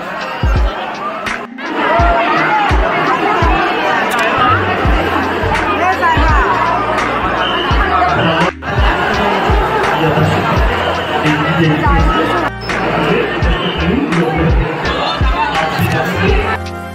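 Dense crowd chatter and babble inside the crowded sanctum of the Swami Samarth temple at Akkalkot, a steady close hubbub of many voices with occasional knocks and slaps, running almost continuously.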